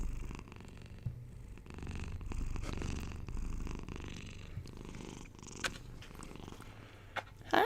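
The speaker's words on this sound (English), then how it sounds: "Kitty purr." A cat purrs close up with a soft, steady, rumbling low purr that pulses with each breath. It is fairly quiet, with a few small rustles and clicks near the end.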